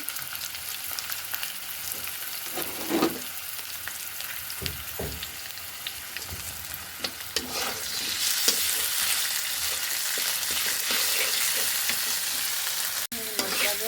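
Meat frying in a pan with garlic, cumin and ginger paste, a few sharp stirring knocks and scrapes early on, then a loud, continuous hiss of sizzling oil that builds and holds to the end.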